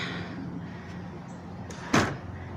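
A wooden door on a small faux-cabin style garden shed swings and bumps shut with a single short thud over a quiet, hissy background.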